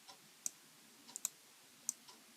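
Sharp computer mouse clicks in Metatrader 4 trading software, four or five quick, crisp clicks spaced irregularly over a quiet background with no talking.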